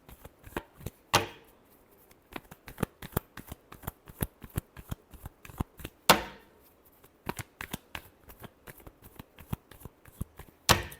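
Tarot cards being shuffled by hand in a series of quick riffling bursts, with louder flurries near the start, middle and end, close and clear with no talking.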